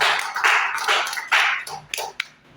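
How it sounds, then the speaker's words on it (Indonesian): A small group of teachers at a school gathering claps briefly in a few loose bursts. The claps are close and uneven and trail off into scattered taps. "Tepuk tangan untuk kita semuanya."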